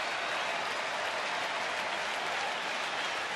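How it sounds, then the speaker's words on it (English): Baseball stadium crowd at a Cleveland at Texas game, a continuous loud wash of cheering and clapping from a large crowd, steady and dense without pauses. "Crowd starting a rhythmic chant"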